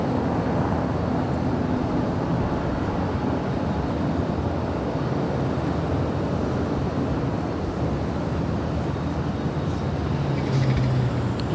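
A Lufthansa Boeing 747 at Los Angeles International Airport gives off a steady, broad jet roar that holds at an even level for the whole stretch, with no voices.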